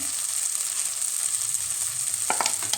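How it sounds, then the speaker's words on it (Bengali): Cumin, coriander and turmeric powder sautéing in oil for a restaurant-style mushroom masala: a steady close sizzle, followed near the end by a few quick scraping stirs. "ভালো করে কষিয়ে নিচ্ছি।"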